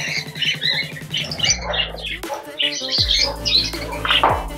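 Pet birds squawk loudly and repeatedly from close by, a dense, overlapping chorus of harsh calls with brief chirps mixed in, continuous across the whole stretch before feeding.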